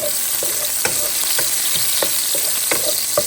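Mutton sizzles steadily in hot oil in a pan, with irregular stirring scrapes and clicks over the constant frying hiss, close up and with no voices.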